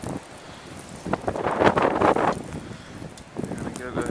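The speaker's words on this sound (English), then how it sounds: "Feels like the wind's about to pick up again." Strong blizzard wind gusts and roars against the microphone, swelling to a loud peak and then easing, while a person talks underneath.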